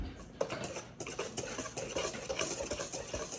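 A whisk works quickly through a dry flour mixture for tortillas in a bowl, making a close, busy scratching and clinking patter with small bursts and no pauses.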